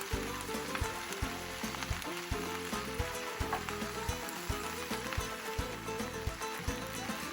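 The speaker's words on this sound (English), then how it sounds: "You'll want to cook down your veggies a bit for a few minutes" Fajita vegetables sizzle steadily in a hot pan for a fajita quesadilla, a continuous close hiss and crackle with rhythmic clicking from utensils, and no talk over it.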